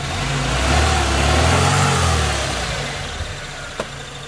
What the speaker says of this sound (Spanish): el carro acelera muy bien